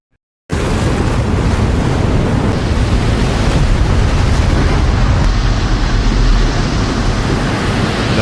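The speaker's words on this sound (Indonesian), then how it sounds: "tergulung ombak yang sangat besar" A sudden onset of loud, roaring surf, a massive wave crash giving way to a sustained, churning rumble of heavy water.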